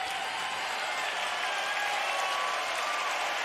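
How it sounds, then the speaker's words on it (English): A wrestling arena crowd in Greensboro applauding after a main event trios match, a dense continuous wash of clapping and cheering that holds at a steady level throughout. "these fans here in Greensboro showing their appreciation for the hard work, the physicality in this main event"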